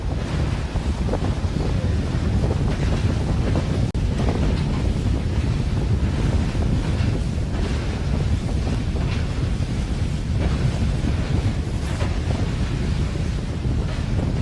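Steady wind buffeting the microphone with waves and surf washing around a racing sailboat during a December state championship race, continuous and loud with no voices.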